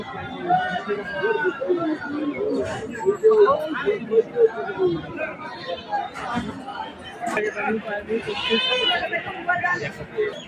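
Goats bleat among a busy crowd at a goat market, with chatter and overlapping voices throughout and the animal cries rising above the hubbub at intervals.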